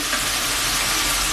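Spiced paste with potatoes just added sizzles steadily in a pan for a Bengali prawn curry, an even close-up frying hiss with a low rumble beneath, no voices.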